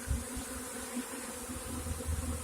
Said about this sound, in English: I am right in the middle of a swarm of bees.